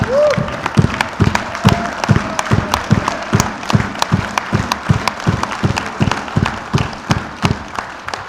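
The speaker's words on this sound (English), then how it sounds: "let's give him a solid round of applause." An audience at an NAR India meeting claps for a gentleman honoured for his selfless work. The clapping is steady and near, with a strong regular rhythm of sharp claps that runs for the whole stretch, with no voice over it.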